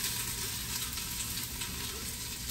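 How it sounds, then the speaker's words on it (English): Chopped homegrown onions sizzle and crackle steadily in a hot frying pan, a continuous close, bright hiss with small pops throughout and no talking. "Love the sizzle."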